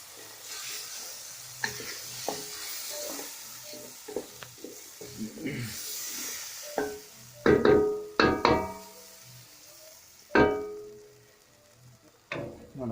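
Sofrito of paprika and tomato frying in a pan for seafood fideuá, a soft steady sizzle broken by loud knocks and scraping stirs from a utensil, with someone speaking briefly.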